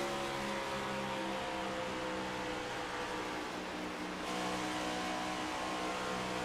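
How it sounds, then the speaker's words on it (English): Race cars roar around a California outlaw racing track in a continuous, dense engine drone, loud and steady with no pauses, engines blending into one sustained snarl. "Gosh, I love the way these cars sound."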